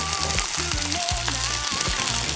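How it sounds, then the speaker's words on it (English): Big prawn patties sizzling in hot oil for a chicken chow mein, a steady dense crackle with occasional clinks and scraping from the pan, close and continuous. "Now, time to put in prawns. Big prawn patties."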